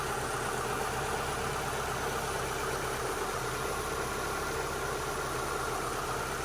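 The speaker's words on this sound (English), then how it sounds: "this is probably after 5 minutes of just letting the engine run. Sounds a lot smoother now." 2002 Mitsubishi Lancer engine idling steadily in a garage after several minutes of running, a smooth continuous hum with a fan whirring in the background.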